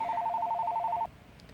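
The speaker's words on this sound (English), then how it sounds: "Oh, there's my phone again." A phone ringtone trills in a steady repeating two-tone pattern for about a second, fairly loud and close, then cuts off abruptly, leaving quiet room noise.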